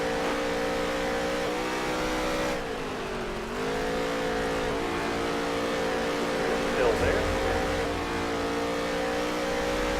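Race cars roar around the Eldora dirt track in NASCAR Heat 3, a dense, continuous engine drone with pitch dipping and climbing as they race in traffic, loud and steady, while a voice briefly speaks over it.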